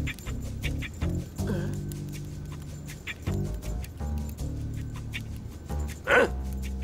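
A mechanical dog in an animated series yaps and pants in short bursts, with quick bark-like yelps and breathy panting between them, close and fairly loud.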